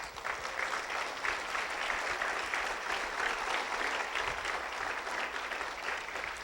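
A church congregation claps steadily together in a sustained, even round of applause at a worship service, dense and moderately loud throughout with no talk over it.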